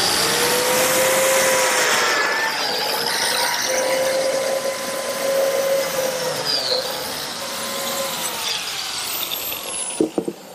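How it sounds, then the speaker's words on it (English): Biscuit joiner cutting slots in wood trim for an outdoor cupboard, a loud sustained high whine with a steady motor squeal that winds down at the end, followed by a couple of brief knocks. "joiner to make the slots to attach the trim"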